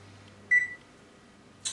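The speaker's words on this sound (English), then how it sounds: "Set the timer, 20 minutes." A kitchen oven timer being set for a batch of cheese-stuffed meatballs baking at 400 degrees gives one short, clear electronic beep, nearby and alone in a quiet room, with a faint click at the very end.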